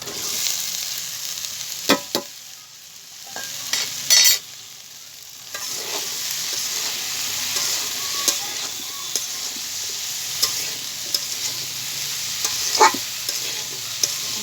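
Okra is stir-fried with onion in a pan over a wood fire, with a steady close sizzle punctuated by sharp scraping and clanking strokes of a spatula against the pan.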